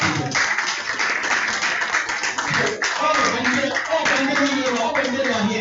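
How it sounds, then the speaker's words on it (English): Steady crowd applause at an Igbo community event in Wales, dense continuous clapping from many hands that fills the room with no talk over it. "So can we give you a hand of applause?"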